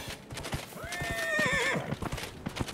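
Horse hoofbeats clip-clop steadily from a mount being ridden in the video game Dragon Age Inquisition, with a loud, rising neigh in the middle; no talking over it.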